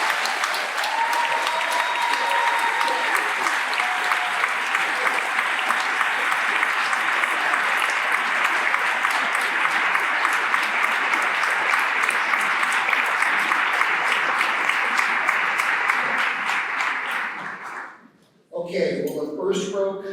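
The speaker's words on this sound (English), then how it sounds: "let's give them a huge round of applause" Sustained loud applause from a crowd for a graduating senior class at a class day ceremony, dense clapping for about seventeen seconds before fading, then a voice speaking.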